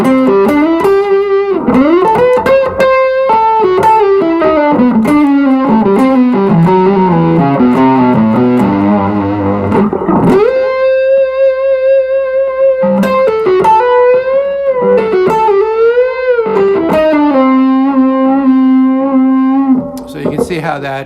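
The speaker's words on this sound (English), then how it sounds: "Okay, here it is with distortion." Electric guitar played through a distortion effect, loud and sustained, moving through riffs and held notes with a thick, saturated tone that rings out alone before trailing off at the end.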